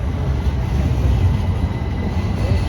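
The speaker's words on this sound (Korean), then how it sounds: "갈라타 다리를 트램으로 지나고 있어요." Steady low rumble of a tram rolling along the tracks across the Galata Bridge in Istanbul, a continuous rattling drone with no talk over it.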